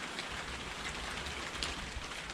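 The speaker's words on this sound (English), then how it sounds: "it was raining that entire time since pretty much immediately after we put up the nuts in the smoker there" Steady rain falls outdoors around a smoker loaded with almonds and pecans, a soft, even hiss of drops pattering on surfaces with no voices.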